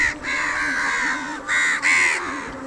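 A crowd of crows caws loudly and repeatedly around a food waste dump, harsh overlapping calls coming in bursts with short gaps, close by and with no talk.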